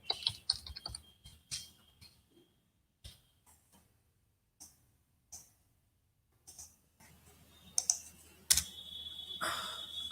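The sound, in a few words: typing SQL query on computer keyboard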